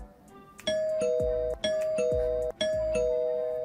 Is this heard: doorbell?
yes